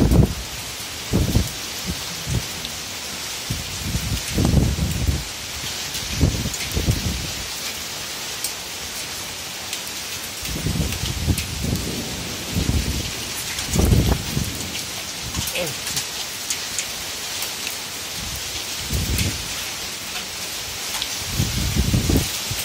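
Hail and rain falling during an Oslo summer, a steady dense hiss of drops with scattered sharper impacts and low rumbles throughout, no voices.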